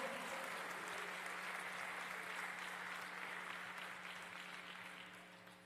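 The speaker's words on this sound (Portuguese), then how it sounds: "Aplauda o Senhor." A church congregation applauds during a service in a sustained, dense wash of clapping that slowly fades toward the end, heard from a distance over a low hum.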